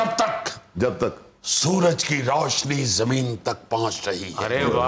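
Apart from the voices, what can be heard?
No everyday noise stands out behind the speech.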